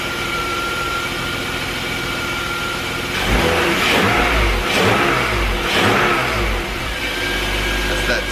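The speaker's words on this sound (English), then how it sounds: "That's that stupid-ass exhaust rattle. I don't want to run it too high." A BMW E34 with an S52 inline-six engine idles, then revs up a few times with a metallic exhaust rattle buzzing underneath, loud and close.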